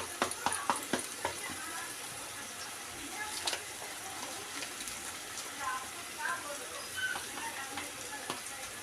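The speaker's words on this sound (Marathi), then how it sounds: "आणि सगळे मसाले आपण परतूया।" Spices sautéed in a pan for green pea rice with coriander-cumin powder and biryani pulao masala, a soft continuous sizzle with light clicking stirs, fairly faint and close.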